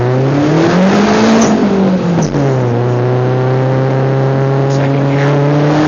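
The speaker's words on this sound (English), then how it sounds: "Let's just try a little forward acceleration." From inside a 2003.5 Mazdaspeed Protege with a snapped exhaust, the engine roars loudly and raspily as it accelerates, its pitch climbing, dipping briefly at a shift, then holding a steady, droning drive.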